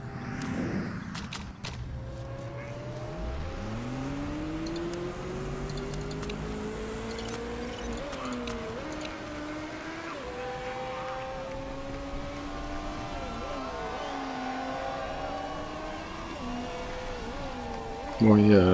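Race cars from the Motorsport Manager game lap a circuit in a practice session, their engine tones steadily rising and falling as several cars pass one after another, with a constant hum throughout.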